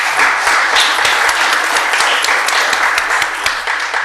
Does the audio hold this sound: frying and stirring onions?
no